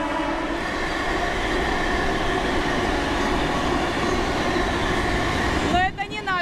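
A loud electric commuter train rumbles steadily through a station, with a brief squeal of wheels or brakes near the end; no clear talking.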